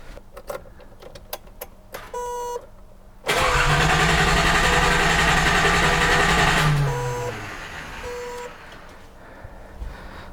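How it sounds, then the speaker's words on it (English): A Datsun 280z that has been sitting, with a fuel problem, cranks loudly for a few seconds without catching, after some clicks and tapping, then the starter winds down and quieter handling noises follow. "So let's see if she'll turn over."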